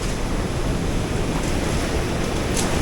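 Seawater surges into a sea cavern at Chin Beach on Vancouver Island, a continuous loud wash of surf with breezy noise, no voices.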